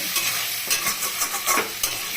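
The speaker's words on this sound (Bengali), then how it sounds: "সামান্য একটু হলুদ দিয়ে আলুটাকে সুন্দর করে ভাজবো" Potatoes fry with salt and a little turmeric in a pan, giving a steady hiss broken by several louder scraping stirs against the pan, with no talking.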